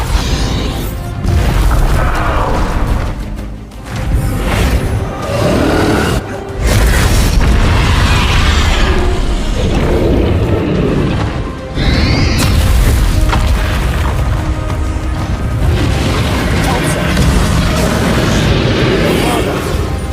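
Heavy Bombarda spell blasts from the Hogwarts Legacy video game boom loudly one after another, dense rumbling explosions layered with combat noise and sustained through most of the stretch.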